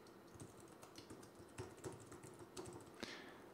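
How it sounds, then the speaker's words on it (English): Soft, rapid keystrokes on a computer keyboard as an email address is entered, a steady run of light clicks with a few slightly louder taps, close but quiet against a faint background hiss. "I'm going to go ahead and type my PayPal email address in."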